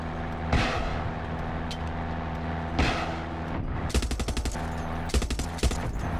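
Bursts of automatic gunfire in the Far Cry 6 video game: one at the start, another near three seconds, then rapid rattling volleys later, loud over a steady background hum.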